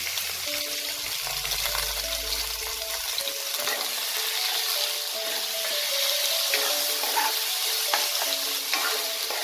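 Steamed red amaranth greens hiss and sizzle steadily in hot oil, a dense crackling fry with occasional stirring scrapes, close and continuous throughout.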